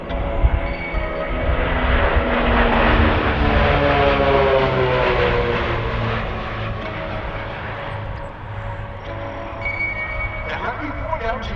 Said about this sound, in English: as you watch this pretty formation fly by